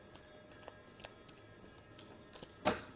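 Tarot cards being shuffled by hand, a few soft riffling flicks and taps ending in a sharper snap, close and fairly quiet with no talk.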